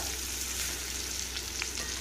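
Raw banana slices frying in oil in a pan, a steady close sizzle with a faint scrape or two and no talk.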